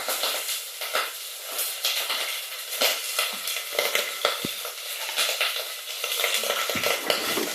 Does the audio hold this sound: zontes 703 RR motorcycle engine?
no